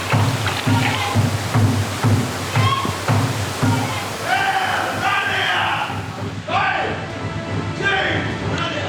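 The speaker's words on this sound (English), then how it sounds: "As the constant barrage of cold water saps their stamina" Cold water pours and sloshes heavily down on Royal Navy trainees in a flooding training tank, a loud, constant rushing roar with surging splashes and voices calling out over it.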